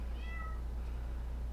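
A cat gives a short, rising-then-falling meow near the start, moderately close, then a steady low hum carries on with no voices.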